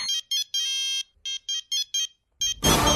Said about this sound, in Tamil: உங்ககிட்ட இருந்துதான் போன் அடிக்கிற சவுண்ட் வருது